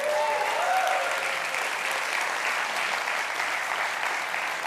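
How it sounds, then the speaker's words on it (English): Attendees at the Beyond Tellerrand web conference applaud themselves in a steady, full round of clapping from a large audience, with a few whoops early on. "Give yourselves a round of applause for making it through the first day of Beyond Tellerrand."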